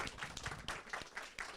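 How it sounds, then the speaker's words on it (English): Board of education meeting audience applauding students and staff, a short burst of scattered hand claps, fairly faint and roomy, lasting under two seconds. "if we could just give our students and staff a round of applause"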